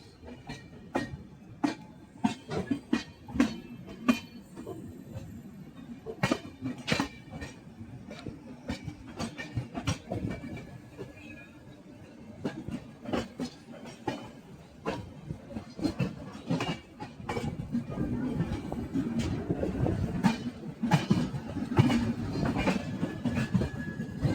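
The Sabarmati Jammu Tawi Express runs on the rails, a loud close rhythmic clickety-clack of wheels over joints under a continuous rumble that swells toward the end.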